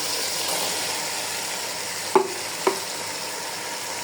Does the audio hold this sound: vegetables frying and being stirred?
yes